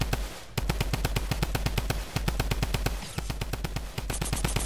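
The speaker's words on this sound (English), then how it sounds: "it's probably the drum gun" Drum gun in Fortnite firing in long rapid bursts, a steady machine-gun rattle of evenly spaced loud shots with brief pauses between volleys.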